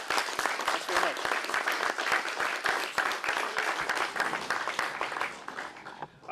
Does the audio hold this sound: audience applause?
yes